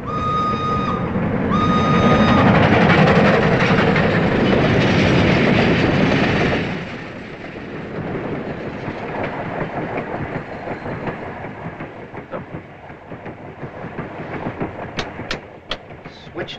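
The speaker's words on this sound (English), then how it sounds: "Nothing unusual for a European train." A European passenger train runs along the rails, loud rumbling and clickety-clack at first, then settling into a steadier, quieter rolling rhythm with a few sharp clicks near the end.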